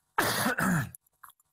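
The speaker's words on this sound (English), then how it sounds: "Excuse my cough." A single throat-clearing cough in two quick bursts, close and clear, followed by a brief faint rustle.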